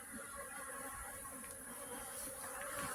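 Honeybees fly around their hives on a dry day amid flowering linden, privet and bramble, giving a steady, faint buzzing drone that stays even throughout.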